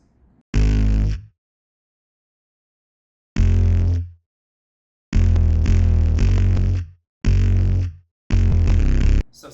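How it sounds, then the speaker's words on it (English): Heavy 808 bass in a loud hip-hop chorus, booming low sustained notes in several separated bursts with dense upper layers, each cut off cleanly into silence. "when it drops out of the fast drums, we added an 808."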